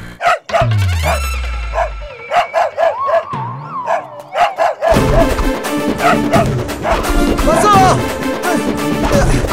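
A Labrador dog barks in a short series of sharp, loud barks during a comedy film scene, with voices around it and music swelling in the background later.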